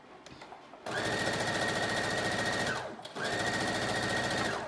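A domestic sewing machine stitches fabric in two fast, steady bursts separated by a brief pause, the motor whirring loudly and close with rapid needle clatter, after a few quiet handling clicks at the start.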